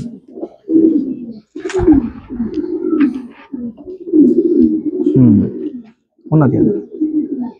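Pigeons kept as first-generation breeding birds give low, soft cooing bursts, repeated in short phrases close by, mixed in with someone talking over them.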